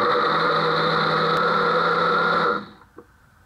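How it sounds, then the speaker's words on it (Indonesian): A kitchen blender grinds spice ingredients with water into a smooth paste for crispy duck, a loud steady whirring motor hum that runs continuously, then cuts off and winds down near the end, with no talk over it. "Kita blender sampai halus."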